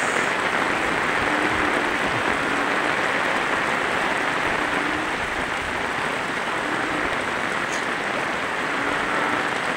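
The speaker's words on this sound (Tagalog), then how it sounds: "Ang lakas-lakas ng ulan." Heavy, steady rain pours down over flooded streets in a Bicol barangay during a low-pressure storm, a dense unbroken hiss and patter that stays loud and even throughout with no voices.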